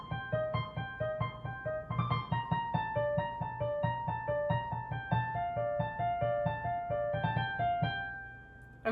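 Piano plays a piece at full tempo, with a repeating arpeggiated melody over soft low chords, quiet and close, and no voices.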